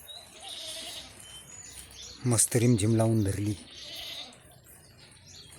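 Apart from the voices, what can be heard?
goats bleating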